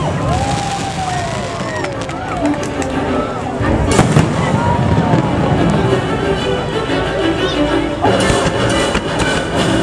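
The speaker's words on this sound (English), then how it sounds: "The Epcot fireworks and laser." IllumiNations: Reflections of Earth, the fireworks and laser show at Epcot, Walt Disney World, brings loud, dense bursts and crackles that build around the midpoint, with a murmuring crowd and scattered cheering throughout.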